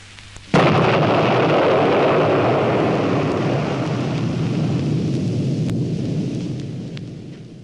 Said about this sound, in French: Alors, une explosion ébranla la nature derrière eux.